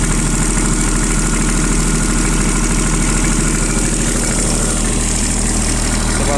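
A Japanese mini excavator's diesel engine runs steadily after a warm-weather start, a loud, close, even rumble with a constant mechanical drone and no voices.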